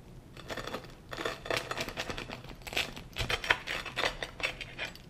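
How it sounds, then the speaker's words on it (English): A knife or cutter crunches through the crispy crust of a homemade no-knead pan pizza, giving a run of sharp crackling snaps in uneven bursts, close and fairly quiet, with no talking. "I'm gonna cut this crust, just listen to this crust"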